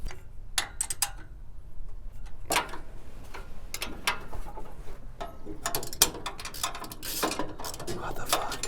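Bolting down a pedestal in a garage, close irregular ratcheting clicks and metallic ticks from a wrench, with knocks and scrapes in between.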